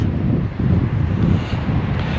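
Strong wind gusts across a harbour at Bantry in County Cork, roaring loudly and continuously against the microphone with deep rumbling buffets.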